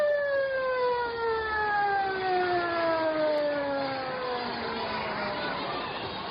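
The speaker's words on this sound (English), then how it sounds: "The siren moaned to stillness" A long siren winding down, its steady wail sliding lower in pitch as it fades toward silence, with a muffled crowd murmur underneath.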